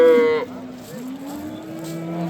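Simmental cattle and calves at the Shahrixon livestock market: a loud, close moo at the start, followed by a longer, lower lowing call against a faint market background.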